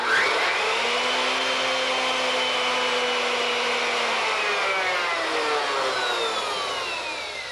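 A 3 horsepower router with soft start spins down after running, a loud, close, high whine steadily sliding lower in pitch and gradually fading over several seconds.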